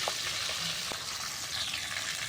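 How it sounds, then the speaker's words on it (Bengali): Whole fish shallow-frying in an oil-filled pan after being flipped to the other side, a steady close sizzle with a few brief clatters, no talk. "মাছগুলো এখন আমি উল্টিয়ে দিচ্ছি অপর পাশে ভেজে নেওয়ার জন্য"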